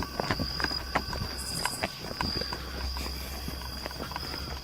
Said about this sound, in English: I hear somebody walking, and it's not our freaking footsteps.